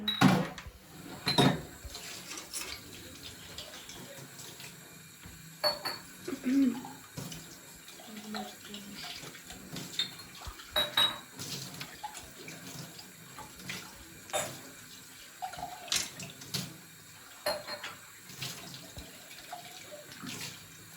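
Dishes being washed at a sink under a running tap, with soft water flow, clinks and scattered clatters of crockery over about twenty seconds, fairly quiet with occasional voices in the background.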